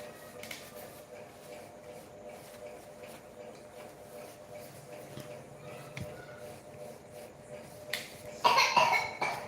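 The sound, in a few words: person coughing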